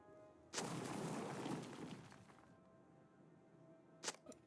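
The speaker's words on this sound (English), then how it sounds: "They've been using that explosion sound" Explosion sound effect from the LOTRO online game: a sudden loud burst with a crackling, rumbling tail that dies away over about two seconds, followed by a sharper, shorter crack near the end.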